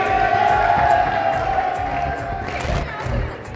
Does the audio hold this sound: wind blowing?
no